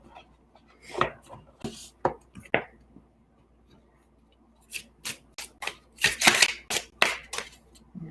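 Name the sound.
shuffling delicate tarot cards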